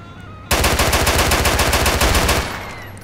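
Automatic gunfire in GTA IV: a loud, rapid machine-gun burst of evenly spaced shots lasting about two seconds, then trailing off into echo.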